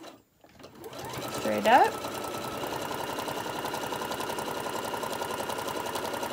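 A sewing machine runs steadily, stitching a sewing machine mat, its fast even whirring continuing at close range after a brief pause, while a person speaks briefly over it.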